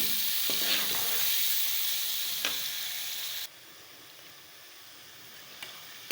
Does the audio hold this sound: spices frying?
yes